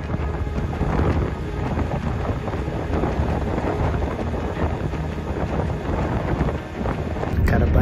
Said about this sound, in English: the wind is so insane